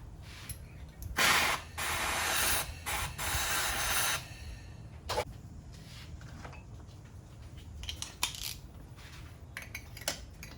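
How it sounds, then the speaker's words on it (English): Compressed air bursts into the spark plug hole of a Mitsubishi Delica's 6G75 engine, with a rag held over it: a few loud hissing blasts lasting a second or two each, followed by quieter clicks and handling noises. "I'm just going to hold a rag over the hole and blow some compressed air into it"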